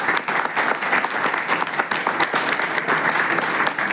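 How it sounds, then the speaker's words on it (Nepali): An audience at a PABSON school event applauds parents: dense, steady clapping from a large crowd that fills the whole stretch at full strength, with no talk over it. "आदरणीय आमा बुवाहरूले ताली बजाइदिनुहोस्।"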